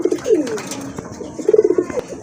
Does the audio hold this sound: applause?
no